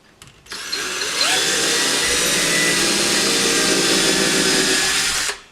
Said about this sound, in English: And I just drilled right into the stud.